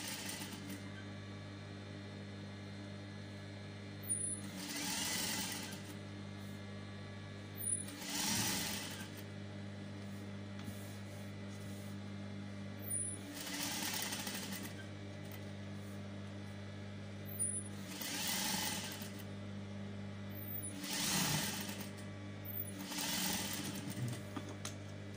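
Sewing machine stitching a neckline facing on a garment, several short bursts of close stitching spaced a few seconds apart over a constant low hum.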